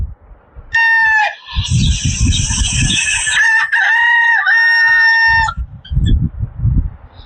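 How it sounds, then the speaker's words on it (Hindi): A rooster crows loudly and close, one long drawn-out call, with hens clucking and scratching around it before and after. "तो आपने सुना, ये आवाज थी मुर्गे की, कुकड़ू कू।"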